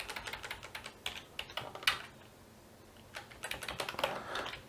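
Quiet, close computer keyboard typing while entering program code, quick clusters of clicking keystrokes separated by a short pause, with no voice over it.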